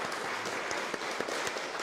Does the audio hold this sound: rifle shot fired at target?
no